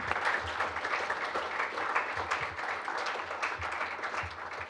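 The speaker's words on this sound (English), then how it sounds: "Can we get a round of applause for them?" An audience claps steadily at a Bridges to College banquet at GRCC, a dense, even patter of many hands that holds its level throughout without a break.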